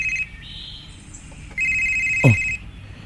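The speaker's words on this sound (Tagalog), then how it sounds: "May nanawag din mo." Telephone ringing in bursts of bright electronic warbling tones, with short pauses between rings and a brief thud partway through, close and clear with no voices.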